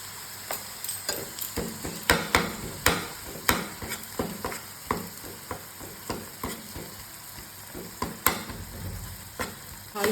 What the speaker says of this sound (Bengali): এবার দিয়ে দিচ্ছে আদা রসুন পেস্ট।